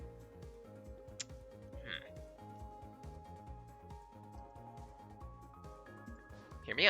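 Toad croaking in the video game Code Azure, repeated low croaks pulsing steadily beneath a rising electronic game tone, moderately loud and close, with no voices.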